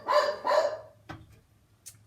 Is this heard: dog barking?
yes